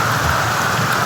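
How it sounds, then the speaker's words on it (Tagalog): Heavy rain pours down steadily on a mountain trip, a dense, loud, unbroken hiss of downpour with no voices. "Sobrang ulan dito mga idol."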